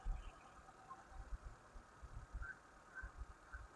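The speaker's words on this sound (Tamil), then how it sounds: "ஹோண்டாய் சாண்ட்ரோ இன்ஜின் டூம் பாருங்கள் எவ்வளோ" A used Hyundai Santro car engine idles up close, a steady low rumble with a faint rhythmic knock and pulsing beats, heard alone without talk.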